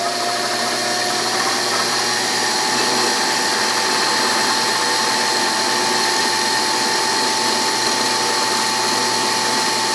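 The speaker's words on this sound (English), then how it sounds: "And I'm cranking her up." A DC motor mounted on a drill press hums and whirs steadily as it is cranked up to speed, a loud continuous mechanical drone with a rising whine and faint rattling vibration.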